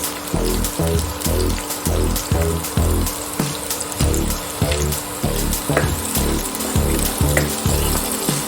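Onions sautéing for spring rolls in a pan, a loud, continuous sizzle with a steady rhythmic scraping of the spatula, close by and with no voices.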